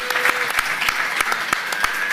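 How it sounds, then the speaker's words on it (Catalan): A studio audience on a Catalan talk show claps for a guest named Palop: brisk, close applause with a few sharp individual claps standing out, filling the whole short stretch. "Un aplaudiment per Palop."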